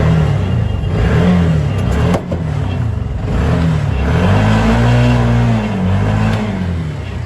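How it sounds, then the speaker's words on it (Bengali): A 2015 Bajaj CNG auto-rickshaw engine runs loud and close, its pitch rising and falling through several revs over a steady rattling drone. "আমি দেখাই একটু ইঞ্জিনের সাউন্ডটা কীরকম হবে, আমি ইঞ্জিনের সাউন্ড একটু শোনা দিই।"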